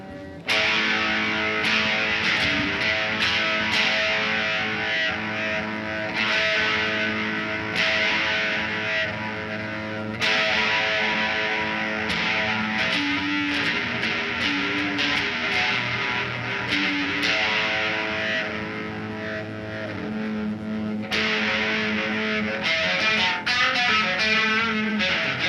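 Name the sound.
guitar with chorus effect pedal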